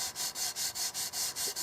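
Sandpaper is rubbed by hand over the wooden stock of a Dakin 12-gauge side-by-side shotgun, making a steady rasping back-and-forth in quick, even strokes. It is close and continuous, with no voice.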